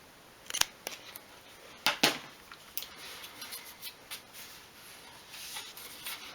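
Scissors snipping paper for a 1/12 scale model shop, a string of sharp close cuts with a few louder clusters and softer trailing snips, no voice.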